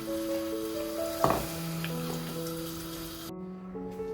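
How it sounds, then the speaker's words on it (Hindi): Onions dropped into hot ghee give a brief burst of sizzling that settles into a soft steady fry beneath steady tonal background hum, no talking. "घी तकरीबन गर्म हो चुका है और इसमें हम लोग प्याज ऐड करेंगे। हम इस प्याज को ब्राउन करेंगे"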